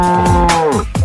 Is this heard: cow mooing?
yes